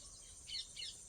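Birds chirp faintly in the background, with two brief high twittering calls over a quiet ambient hiss and no voices.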